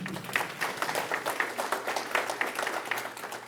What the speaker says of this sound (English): how about another round of applause for Humanities Kansas, huh?